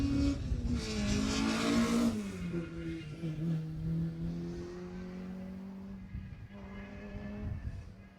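A Peugeot 205 GTI rally car roars past at speed on a Jersey Rally stage, engine note climbing and dropping as it nears and fades, with a second burst of revving as it pulls away.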